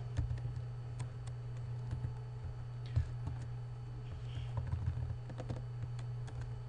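Fingers tap steadily on a computer keyboard while C# code is being written, a run of quiet, even clicks over a constant low hum with no talking.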